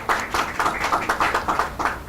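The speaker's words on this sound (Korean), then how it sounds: "여러분 다시 한번 따뜻한 박수 부탁드리겠습니다" Audience applause at an awards ceremony for a big data startup contest during a seminar, a steady, rhythmic stream of many hands clapping, even in loudness and without voices.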